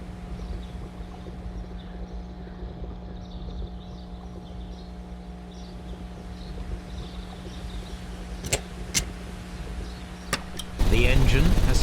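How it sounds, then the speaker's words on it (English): An engine starts up in the Sherlock Holmes: Crimes and Punishments game. A steady mechanical hum with a few sharp clicks gives way near the end to a sudden, louder rumbling surge. "The engine has started."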